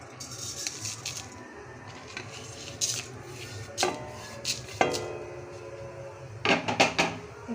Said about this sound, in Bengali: এবার আমি জিরে আর শুকনো লঙ্কা দিয়ে ভেজে নেব।